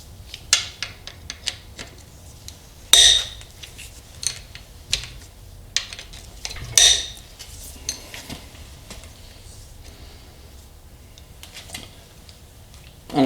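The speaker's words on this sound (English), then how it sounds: "1/2-inch dry breaker bar. Gets those off the easiest." Metallic clanks and ratcheting clicks from a 1/2-inch breaker bar loosening bolts on a 200,000-mile Ecotec engine being disassembled, with a few sharp clanks standing out among scattered softer tool taps, close and without talk.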